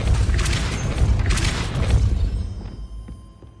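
A Repulsor spell blast in the video game Hogwarts Legacy: a booming, rumbling burst with crackling impacts that carries on for a couple of seconds and then fades into quieter game ambience.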